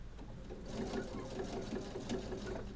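A sewing machine stitches a rolled hem on fabric, giving a soft, fairly quiet rapid whirring with a light rhythmic pulse that comes in and out in short bursts.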